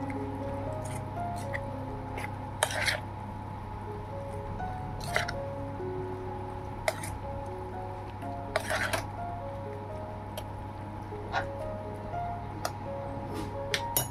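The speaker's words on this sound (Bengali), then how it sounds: "এবারে চামচ দিয়ে এটাকে ভালোভাবে নাড়াচাড়া করে নেব। বাদামের ওই পেস্টটা দিয়ে ভালোভাবে নাড়াচাড়া করে নেব।" A spoon stirs soybean chunks coated in nut paste, giving soft squishy sloshes and light clinks against the bowl, fairly quiet and spaced out, with a steady low hum beneath and no talking.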